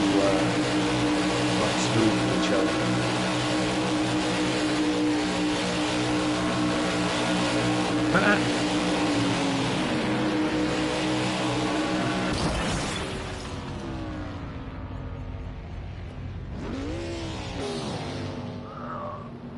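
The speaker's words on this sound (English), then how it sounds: "Two cars running together well will run down the path." Race cars circling at speed during a Daytona 500 Duel qualifying race at Daytona, a steady loud engine roar with rising and falling pitch as cars pass, easing somewhat toward the end.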